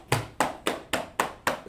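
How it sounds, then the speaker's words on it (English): Six sharp hand claps in a steady, evenly spaced rhythm, close and crisp, with no talking. "Let's clap it up for Mike."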